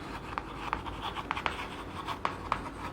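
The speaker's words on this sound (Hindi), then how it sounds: "तो इस पॉइंट को भी लिख लेते हैं" Pen or marker writing notes by hand during a class 12 physics lesson on capacitors, a steady faint scratching with sharper strokes recurring every half second or so, close by and alone.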